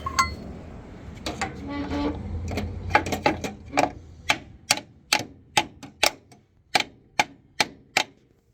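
Sharp metallic hammer strikes driving a bolt through on a car transmission job, irregular at first and then settling into a steady series of about a dozen evenly spaced blows, close by.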